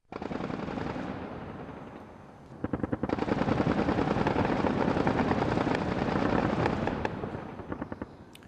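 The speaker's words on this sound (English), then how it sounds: "I have heard the anti-aircraft start shooting around 2:35 early in the morning" Sustained rapid bursts of heavy anti-aircraft gunfire at night around Tripoli, with a deep rumbling roar beneath, continuous and loud, with a brief lull before the firing picks up again.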